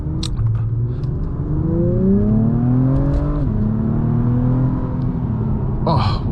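Engine of a 2024 Acura TLX Type S with about 355 horsepower, accelerating hard as rising harmonic tones climb steadily, dip briefly at a shift, then hold a strong, steady drone heard from inside the car.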